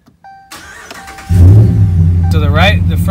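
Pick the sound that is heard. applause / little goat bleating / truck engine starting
truck engine starting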